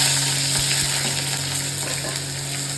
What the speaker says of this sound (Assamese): এতিয়া তেলটো দি দিলোঁ এতিয়া পিঁয়াজটো ঢালোঁ ইয়াতে